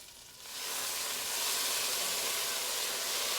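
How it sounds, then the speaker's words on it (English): Loud, steady sizzling of beef searing in a hot pan, rising quickly after a quieter start and holding a continuous hiss throughout. "That's what's giving us a beautiful sear"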